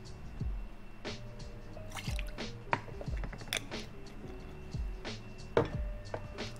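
Fresh lime juice trickles in small splashes into a jigger and a mixing tin while a tiki cocktail is built, quiet close drips and light liquid clinks in an irregular rhythm, with no talking.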